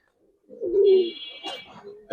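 Pigeons kept in a coloured fancy-pigeon collection coo in a single low throaty call, fairly close, followed by a short higher chirp and a faint sharp sound at the end.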